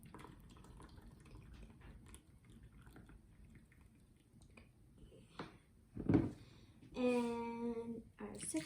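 Hot water for gelatin is poured from a cup into a bowl, a short splashing pour after quiet kitchen background, followed by a brief rising, ringing fill sound.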